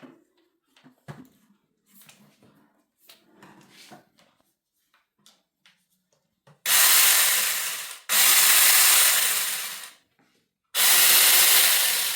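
After some quiet handling clicks, a cordless mini saw on an extension pole cuts wood in three loud, sustained bursts separated by brief pauses.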